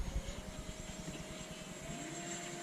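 Steady engine drone of a model F-4 jet flying overhead, a continuous whining buzz with a faint rising tone, moderately distant and alone without talk.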